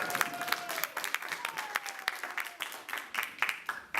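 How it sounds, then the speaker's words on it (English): An audience at a live speaking challenge event claps and cheers for the final speaker, dense, sharp applause with scattered whoops, loud and close, lasting a few seconds. "Let's give a huge round of applause"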